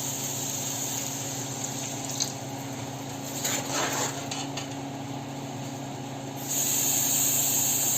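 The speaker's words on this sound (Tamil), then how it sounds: "இப்போ நான் அதில் தண்ணி ஆட் பண்ண போகிறேன்." Water pours into a cooking pot for kuska biryani rice, giving a steady hissing gush of moderate loudness that swells briefly midway, then a brighter, louder spray near the end, with no talking.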